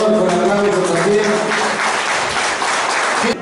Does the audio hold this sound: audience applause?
yes